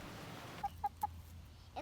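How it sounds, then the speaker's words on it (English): Hens in a backyard coop give three quick, soft clucks in a row, faint and close, against a quiet background with no talking. "These are non-aggressive chickens."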